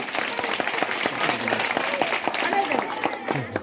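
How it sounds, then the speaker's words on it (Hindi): Village education gathering in Devra panchayat, Prayagraj, where the audience claps: scattered, uneven hand claps ring out in quick bursts amid background voices and crowd murmur. "ताली बजाओ भाई।"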